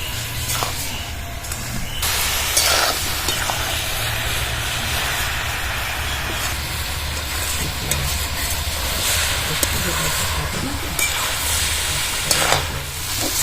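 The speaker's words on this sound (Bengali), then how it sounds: "বাঁধাকপির জলে এমনভাবে কষতে হবে কষতে কষতে সুন্দরভাবে রান্না হয়ে যায়" Cabbage being stir-fried in its own water in a pan for a vegetarian dish, a steady close sizzle and hiss with the scrape and clatter of stirring throughout, no talk.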